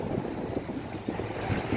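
Strong sea waves at Pattaya, Thailand, rolling and surging close by in steady wind, with a rough continuous wash and soft irregular crashes, no talk.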